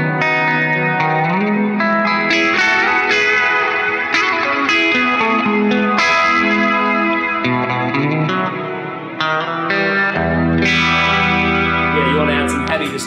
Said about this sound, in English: which is from the phaser algorithm on the H9, is this Univibe setting that I've got